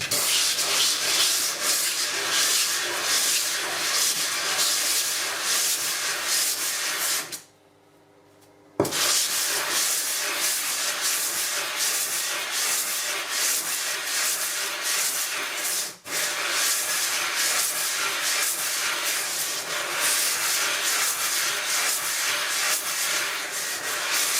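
A sharpening stone being flattened on a lapping plate with abrasive powder and water, giving a steady wet grinding rub that runs continuously, broken by one brief pause partway through.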